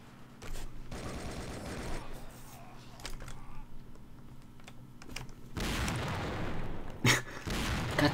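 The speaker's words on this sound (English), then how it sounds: "this machine gun though" Machine gun fire in the video game Battlefield 1942, FinnWars mod, sustained crackling bursts at moderate distance with a louder sharp volley near the end, alongside low engine rumble and faint keyboard clicks.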